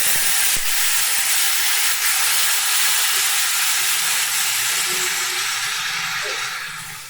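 Water poured into a pan of hot fried-down spices erupts into loud, close sizzling and steamy hissing that holds strong and then slowly eases toward the end.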